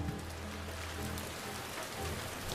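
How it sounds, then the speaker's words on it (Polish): Steady rain falls in The Last of Us Part 2, a soft continuous patter and hiss with a low rumbling bed beneath it, even and unbroken throughout. "w grze pada"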